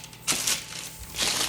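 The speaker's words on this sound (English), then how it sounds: "Crumple up a piece of parchment paper and put it on another baking sheet." A sheet of parchment paper crinkles and crushes in the hands in a kitchen, two close crackling bursts with a brief pause between, no talking.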